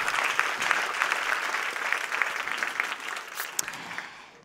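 Audience applause at a conference on an inclusive, planet-positive textile industry fills the hall, a steady dense patter of many hands clapping that holds for several seconds and then slowly thins and fades.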